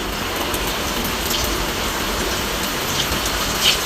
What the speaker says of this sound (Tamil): ஒரு ரெண்டு பீஸ் இல்லை மூணு பீஸ் போட்டு மிதமான சூட்டில் நம்ம பொறிச்சு எடுக்க போகிறோம்